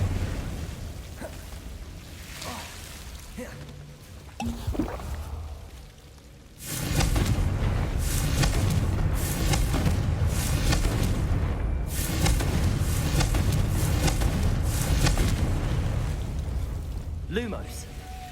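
A fiery Confringo spell blast from a wizarding adventure game, booming and whooshing loudly after an earlier quieter spell cast, with rumbling explosive energy sustained for several seconds and a faint voice near the start.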